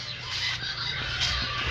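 A Minecraft chicken clucks in short repeated bursts, fairly quiet, over steady background game sound.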